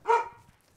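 A single short dog bark, loud and close, quickly fading into quiet.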